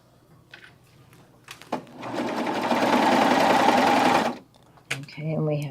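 A sewing machine stitches a seam on a quilted jacket in one steady, loud run of about two and a half seconds, with a few softer handling noises and brief speech around it.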